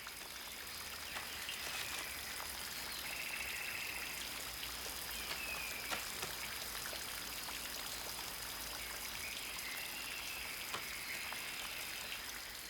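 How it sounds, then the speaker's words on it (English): Steady rain falls in the Guyana rainforest near the Acarai Mountains, a dense, even hiss of drops on foliage with faint trickling throughout, constant and close with no voices. "The rain puts an end to this excursion."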